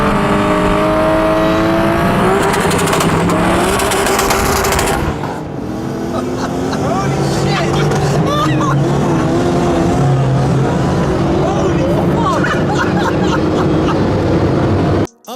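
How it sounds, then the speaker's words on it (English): BMW E34 M5 built to over 1,000 horsepower, its engine roaring loud and steady throughout, with shifting pitch as it accelerates and a brief dip near the middle before cutting off at the end. "We are starting today's video off with a BMW E34 M5."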